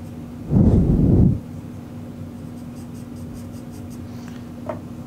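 Graphite pencil laying a soft half tone on drawing paper for the lower lip of a portrait, a close, steady scratchy shading burst lasting under a second, then quiet room hum.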